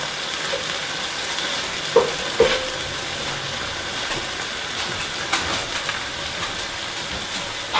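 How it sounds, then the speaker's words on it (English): Cheeseburger rice cooking in a skillet gets stirred, giving a steady sizzle with a few scraping knocks from the spoon against the pan. "Gotta give this a stir here."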